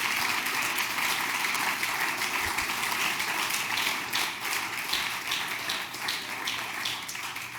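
A congregation at a church service claps steadily and densely throughout, loud and sustained like a continuous wash of applause with no pauses.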